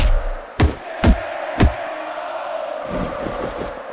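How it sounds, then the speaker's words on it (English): Crowd noise in the WWE Mayhem wrestling video game: three sharp impact slams stand out early, then a steady arena crowd roar continues in the background with faint rhythmic chanting. "do you hear that crowd?"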